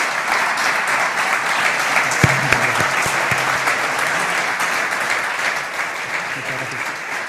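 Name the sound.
audience applause for regional ministers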